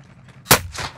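A single sharp gunshot from a sniper in the video game Warzone cracks loudly midway through, followed by a brief fainter echo tail, over quiet game ambience.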